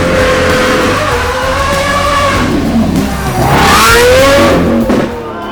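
A green Lamborghini SVJ supercar passing at the Gumball 3000 2023 event in Ljubljana, its engine rising in a loud revving sweep as it goes by amid other traffic noise, then dropping away near the end.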